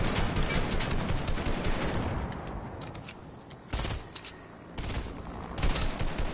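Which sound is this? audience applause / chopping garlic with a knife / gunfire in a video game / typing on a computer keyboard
gunfire in a video game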